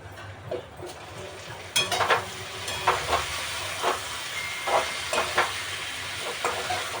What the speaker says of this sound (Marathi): पटकन शिजते शिमला मिरचीला वेळ नाही लागत अशी जरा शिजून घेते